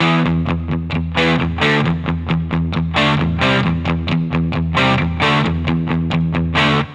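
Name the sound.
distorted electric guitar without palm muting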